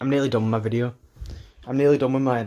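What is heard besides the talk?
No distinct noise like a dog, phone or traffic.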